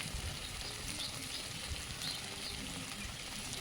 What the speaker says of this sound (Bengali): তাই কচুটা আস্তে আস্তে করে ভালো করে ভাজতে হবে